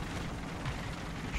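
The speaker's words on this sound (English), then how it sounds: "Get some artillery on all them lads right on the corner." Artillery strike explosions in the War Thunder video game, heard as a low, rumbling barrage of blasts that stays fairly quiet and distant, with a slightly heavier thump near the end.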